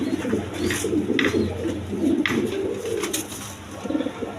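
Pair of blue bar Lahori pigeons cooing close by in repeated soft, throaty bursts across the stretch, with no talk over them.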